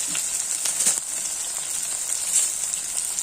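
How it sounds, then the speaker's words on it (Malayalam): Small shallots sizzling in a hot pan as the base for a coconut tuna fish curry, a steady bright crackle with faint scraping stirs, close and alone. "ചെറിയ ഉള്ളി ഇടാം എല്ലാം മൂക്കട്ടെ"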